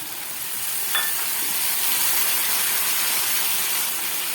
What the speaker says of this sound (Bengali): আর দিয়ে দিচ্ছি পোস্ত বাটার জলটা।